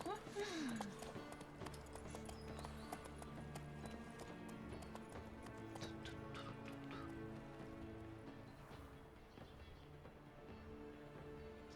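A horse gallops in a video game, its hooves giving a steady, fast clip-clop that runs throughout over a game soundtrack, with voices at times.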